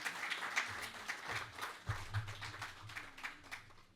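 An audience at a Navajivan Talks event welcomes Biren Kothari onto the stage with applause. The clapping is faint and somewhat distant, with scattered hand claps and low room rumble.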